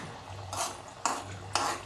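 A spoon stirs hot oil in a pan while spiced semolina shankarpali fry, giving three short scraping clinks about half a second apart over a low, steady frying sizzle, close and fairly quiet.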